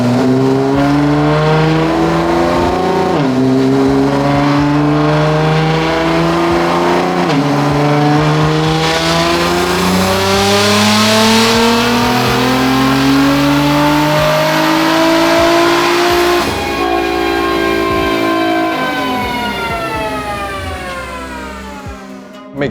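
A 2009 Nissan R35 GT-R with its VR38 3.8-litre V6 strapped down on a dyno, revving hard through repeated rising gear pulls, loud and close, climbing to a high wail before easing off at the end.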